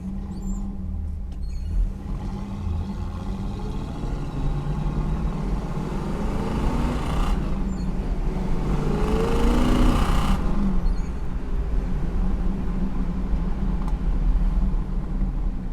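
A 1970 Pontiac Trans Am Ram Air III with a 4-barrel carburetor and rebuilt four-speed drives along, its engine droning low and steady from inside the car and swelling briefly mid-run.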